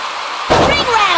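A wrestler slams down onto the ring in a WWE SmackDeown-style video game, a sudden heavy thud with a rattling crash that rings out briefly after near silence, with crowd-like game noise underneath.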